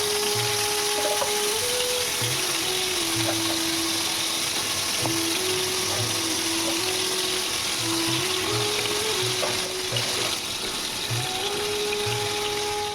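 Vegetables fry in hot oil in a wok, giving a steady, continuous sizzle at close range, with faint mechanical clicking and a soft hum underneath, and no talking.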